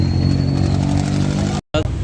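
A steady, loud engine drone with low harmonic hum from a motorcycle running close by on a road trip to Tagaytay, Philippines, briefly cutting out near the end.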